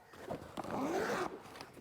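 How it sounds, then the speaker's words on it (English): A zip is pulled open along a side pocket of a Tailfin AeroPack bike bag, one close, quiet, continuous zipping run lasting about a second with a little handling noise around it. "So on both sides of the pack, there are zips, but they do different things."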